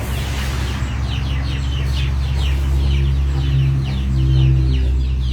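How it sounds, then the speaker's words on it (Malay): Chickens cluck and call nearby over a steady low hum, several short overlapping clucks spread through the clip at moderate loudness with no talking. "Jamaah ayam datang."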